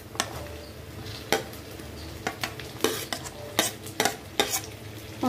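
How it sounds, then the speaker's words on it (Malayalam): Onion and capsicum stir-fried over a high flame for chilli chicken, with a steady sizzle broken by several sharp scrapes and clinks of a spatula against the pan, close and fairly loud, no voices. "ഇനി ഞാൻ സവോളയും ക്യാപ്സിക്കും കൂടെ ഇട്ട് കൊടുക്കുകയാണ്."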